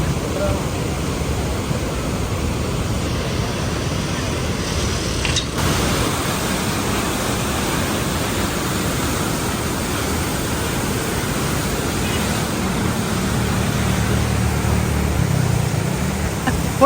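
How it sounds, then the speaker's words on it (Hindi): Fast rushing water of the Chenab River at Head Marala, Sialkot, a loud, steady broadband roar that fills the scene without let-up, close and overpowering. "आप लोग यहाँ पानी की स्पीड देखें, बहुत ज्यादा है।"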